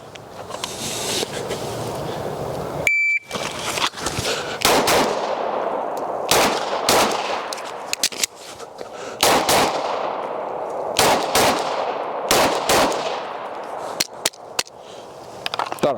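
Pistol gunfire on a USPSA range during a reload drill: rapid, loud, sharp shots in quick strings, with a brief pause for the magazine change, close and alone.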